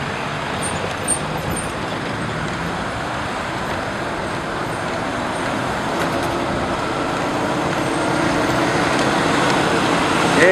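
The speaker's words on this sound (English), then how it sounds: "Heavy lorries are passing by, shaking the old bridge like hell." Heavy lorries rumble across an old bridge at Dambai, a continuous broad roar of traffic that builds slightly louder toward the end, with no talk.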